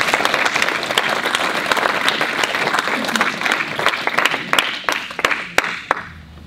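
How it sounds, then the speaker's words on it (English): A meeting audience at a building defects and major projects session applauds, a broad steady wash of clapping that thins into scattered individual claps near the end. "can you just put your hands together to applaud the work of"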